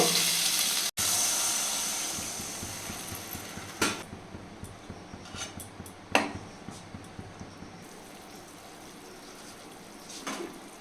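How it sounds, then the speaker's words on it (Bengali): A sudden loud hiss as water hits a hot pan of fried ash gourd, settling into steady bubbling sizzle with scattered pops and clinks. "এবার আমি জল দিব"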